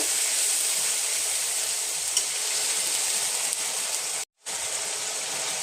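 Spices sauté with a splash of water in a pan for a young jackfruit curry, giving a steady, close, bright sizzle and hiss that runs unbroken until a sudden brief cut near the end, then resumes.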